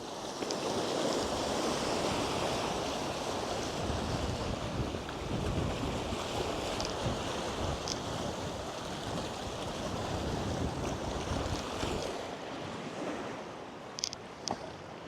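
Sea waves roll in along the Cuban coast, a continuous broad surf wash mixed with wind buffeting the microphone, fairly loud and steady, easing slightly toward the end with a few faint knocks.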